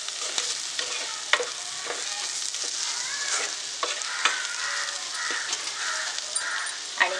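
Masala with salt fries in a pan while a spoon stirs it: a bright, continuous sizzle with irregular scraping clicks, close and steady, and no one speaking.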